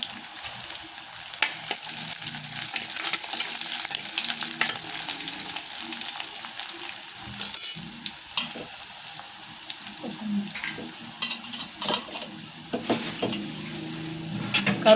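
Garlic and three pinches of dried red chillies fry in a pan with a soft crackling sizzle. A spoon scrapes and taps against the pan in irregular bursts, close up, with no talking.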